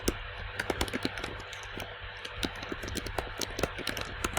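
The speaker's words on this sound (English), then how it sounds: "So we can just start typing in there." Rapid, uneven keyboard typing with sharp individual key clicks close up, a few louder taps standing out, no talking.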